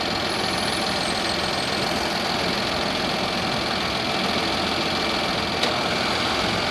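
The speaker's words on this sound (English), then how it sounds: "You can hear the compressor coming just now" A Nissan Pathfinder engine idles steadily with its air conditioning switched on, a continuous even mechanical hum throughout and a brief click near the end as the compressor engages.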